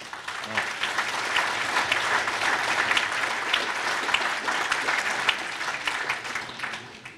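Steady audience applause at a community council's New Year greetings event, a dense wash of many hands clapping for several seconds before tapering off at the end.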